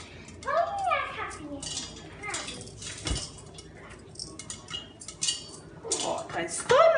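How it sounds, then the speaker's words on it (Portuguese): Sago pearls popping into popcorn inside a pot being shaken on the stove, giving a metallic rattling clatter with scattered pops and clinks while a child and an adult talk over it. "Ah, tá pulando pipoca! A gente tem que sacudir pra pipoca não queimar"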